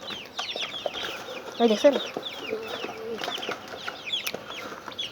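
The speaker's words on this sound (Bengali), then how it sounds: "মারামারি লেগেছে, মারামারি লেগেছে। তারপর আমার 6টাই মুরগি আছে।" Several backyard chickens cluck and squawk in a scuffle among the flock, with a loud burst of fighting noise midway and someone speaking briefly over the steady, close clucking.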